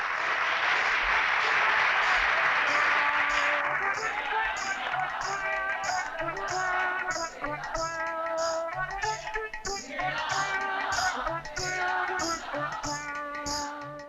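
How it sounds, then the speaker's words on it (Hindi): Loud audience applause at a comedy stage show fills the first few seconds, then fades out as bright, rhythmic music takes over for the rest of the clip. "तालियां।"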